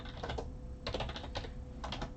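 Bursts of typing on a computer keyboard, clicking in quick uneven clusters separated by short pauses, close and fairly clear with no voices.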